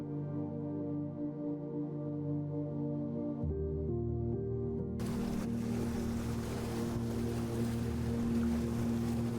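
Thick, barrelling waves break over a reef shelf at Siargao in the Philippines. A broad, steady surf rush joins partway through and continues under sustained background music.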